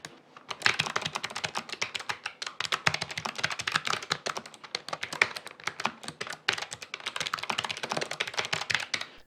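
Rapid, continuous clicking of a Logitech G915 wireless mechanical keyboard with clicky switches, keys struck in quick irregular bursts with only brief pauses, close and crisp.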